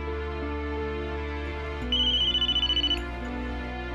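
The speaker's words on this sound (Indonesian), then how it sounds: "tiba-tiba Trip mendapat telepon ancaman dari si pengedar." A telephone ringtone sounds for about a second, a bright pulsing electronic trill rising out of a droning music bed.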